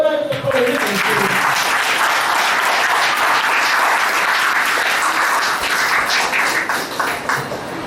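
Loud, sustained applause from an audience at a school anniversary and Kannada Rajyotsava celebration honoring Shrikant Gadkari, dense clapping filling the hall for several seconds before tapering slightly at the end.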